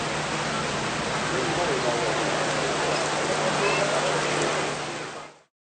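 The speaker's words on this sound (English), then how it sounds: "it started pouring with rain, as you can hear" Heavy rain pours down steadily outside a hawker centre shelter in Singapore, a loud, dense, continuous hiss with a low steady hum beneath it, ending abruptly.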